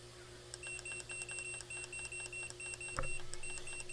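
Digital beeps from a smoker's control panel as its timer is set for venison jerky, a repeated series of short high chirps in a steady rhythm over a low electrical hum, ending in a brief clatter.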